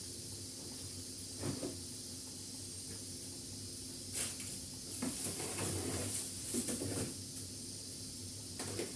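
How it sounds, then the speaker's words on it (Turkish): Steam hisses from the opened valve of a pressure cooker on a stove, a steady airy hiss with several louder bursts and clatters partway through, no talk. "Ventilini açayım dumanı e, buharı çıksın."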